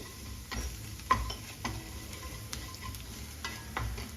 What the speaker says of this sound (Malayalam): ഇതൊന്ന് വഴറ്റാം. അധികം വഴറ്റേണ്ട ആവശ്യമില്ല.